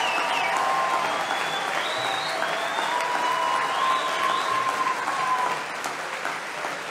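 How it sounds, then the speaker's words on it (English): A large crowd at CPAC Texas gives a standing ovation, loud sustained applause with whistles and shouted cheers rising over it before the clapping eases off slightly at the end. "They're giving him a standing ovation."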